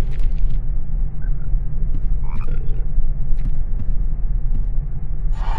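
Frog croaking in the Harry Potter and the Sorcerer's Stone PlayStation game, a few short croaks over a steady low rumbling game ambience.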